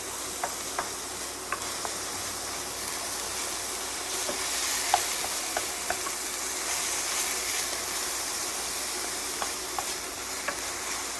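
Chorizo and aromatics with kosher salt sizzle steadily in a hot pan, a constant crackling fry with scattered small pops and spatters, heard close and alone without talk.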